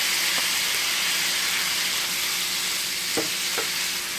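Thinly sliced steak and mushrooms frying in a pan, a steady bright sizzle throughout with a couple of short clinks or stirring knocks near the end, no voices.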